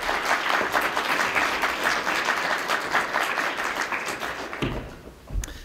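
An audience applauds as author Wiley Cash is welcomed to the stage at an evening literary event, sustained full-room clapping that holds steady before tapering off near the end.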